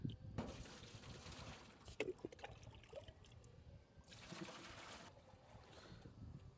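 A full bucket of water is poured into the tank of a solar-powered air cooler in two sloshing, splashing bursts, with quieter trickling and handling noises between them. No one speaks.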